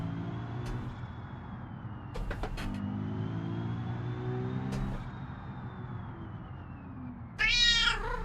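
A cat gives a short, rising meow near the end over the steady drone of an idling car engine, with a few soft clicks earlier.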